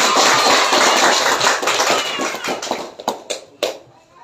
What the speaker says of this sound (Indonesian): Tepuk tangan untuk ketiga kandidat sekali lagi